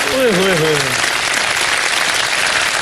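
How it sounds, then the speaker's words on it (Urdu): A studio audience on a live Ramadan iftar television show applauds for two children, a dense, loud burst of clapping that fills the whole stretch, with a voice speaking briefly over the start. "پہلے ان دونوں بچوں کے لیے پہلے بہت سی تالیاں سب بچائیں گے"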